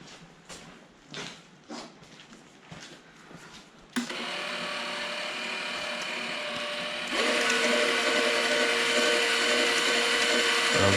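A welder's wire feed motor pushes wire through the gun with a steady, close whirring hum that starts abruptly after some light handling clatter and grows louder partway through, with no talking.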